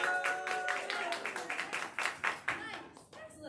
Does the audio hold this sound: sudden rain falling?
no